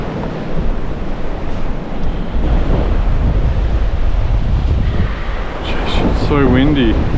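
Strong wind buffets the microphone on a remote southern coastline, a steady loud roar with surf-like rush throughout, while a voice speaks briefly near the end.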